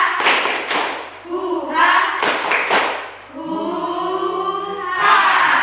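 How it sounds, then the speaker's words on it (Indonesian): A group of schoolchildren in a classroom performs a rhythmic spirit clap, sharp synchronized hand claps and thumps in short bursts, mixed with loud shouted chants between the beats. "Tepuk semangat"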